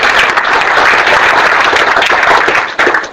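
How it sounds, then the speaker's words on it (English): A lecture-hall audience claps together in a dense, steady burst of applause that continues for about three seconds before fading and breaking off near the end. "Let me see whether you can do well, at least clapping."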